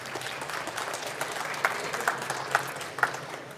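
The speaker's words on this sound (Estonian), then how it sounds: "Aplaus!" Audience applause following a conference talk at a business forum, steady broadband clapping lasting throughout with a few sharper claps standing out near the end, moderately loud and without speech.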